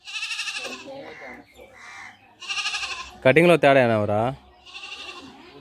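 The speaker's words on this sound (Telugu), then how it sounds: "మేక కాడికి వెళ్తావా?" A goat gives one loud, wavering bleat near the middle, with people talking before and after it.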